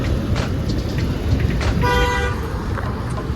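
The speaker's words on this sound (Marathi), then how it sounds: "हे बघा किती ट्रॅफिक आहे." Busy road traffic hums beneath repeated car horns, with a short toot early and a longer tonal honk in the middle, and a few more distant beeps around a steady engine rumble.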